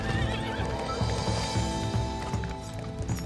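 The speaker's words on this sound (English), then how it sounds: "The horse is their most precious possession, the symbol of freedom and beauty, of strength and power." A horse whinnies loudly and clearly while hooves clip-clop in a steady rhythm beneath it, close and unaccompanied by speech, in the High Atlas Mountains among Berber horsemen.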